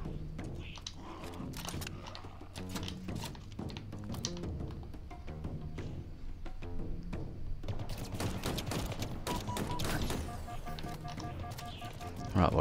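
Rapid gunfire and weapon bursts from combat in Halo Infinite on Legendary difficulty, dense and continuous over game music and effects, with clicks and impacts layered throughout.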